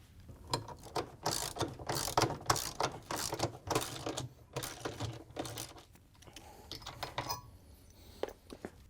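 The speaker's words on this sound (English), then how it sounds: "We're going to use a 13mm socket with an extension and a ratchet to take out the bolts." A ratchet with a 13mm socket on an extension loosens bolts on a Samsung washer tub assembly, producing close bursts of rapid clicking pawl strokes separated by brief pauses.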